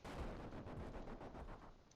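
An explosion in Old School RuneScape's Tombs of Amascut raid bursts out as a rapid cluster of booming, crackling blasts in quick succession, fairly quiet and with no talk over it.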